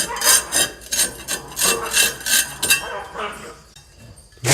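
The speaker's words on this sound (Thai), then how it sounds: "แล้วก็เราก็ใช้แปรงขัด นะครับขัดขี้ทรายให้ออกมานิดนึงครับ" A stiff brush scrubs loose cement grit and sand off the edges and corners of a storage-room wall before painting, giving about ten rough, rhythmic rasping strokes, close and fairly loud, that fade near the end.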